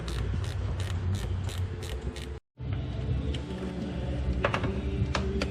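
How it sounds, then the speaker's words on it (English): Ratchet wrench backing out spoiler bolts on a C7 Corvette: a busy run of quick metallic clicks and rattling over a steady background, broken by a brief gap of silence, then more sharp clicks near the end. "we're gonna get a ratchet wrench and get them out"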